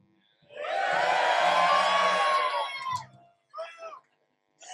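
A live audience at a talk with cyclists cheers and whoops loudly for a few seconds, then the noise fades, followed by brief scattered voices.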